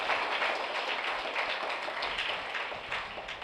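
A church congregation claps together in a dense, even burst of applause that holds at a steady level for a few seconds.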